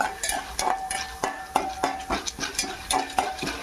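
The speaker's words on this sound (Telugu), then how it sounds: "ఒకగా సిమ్లో కాకుండా మరీ హైలో కాకుండా మీడియంగా పెట్టుకొని మంచి గోల్డ్ కలర్ వచ్చేదాకా మనం వేపుకుందాం" Curry leaves being fried on medium heat in a pan, with a soft sizzle under a repeated rhythmic stirring of spoon against pan, about two or three strokes a second, close and moderately loud.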